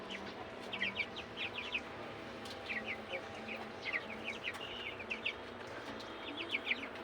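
Chickens cluck and chirp softly in repeated short bursts, fairly faint over a low steady hum of an electric fan.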